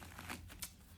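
A brief riffle of a tarot deck being shuffled by hand, a quick papery flutter and snap of stiff cards lasting about a second, quiet and close, with no voice over it.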